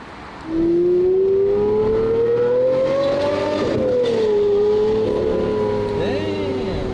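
A car with a loud exhaust revs hard, its engine note climbing steadily for a few seconds before dropping back and holding at a steady, rasping pitch, loud and close.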